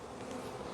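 Soft, steady buzzing of honeybees in a hive around a newly emerged bee among brood cells, faint and close, brief and continuous with no talk.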